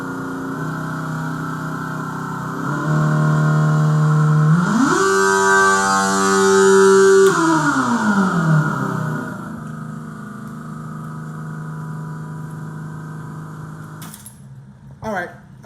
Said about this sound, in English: if y'all heard that, that exhaust is really loud